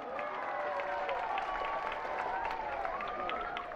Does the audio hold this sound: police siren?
no